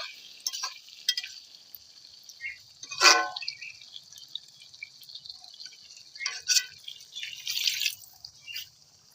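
Hot water poured into chicken curry cooking in a pot at an outdoor winter picnic, heard as faint, intermittent trickling and splashing with a soft hiss, one louder splash in the middle.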